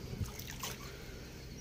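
Water runs from a village tubewell that had not been used for months, a soft continuous trickle and splashing stream heard close, with faint background activity.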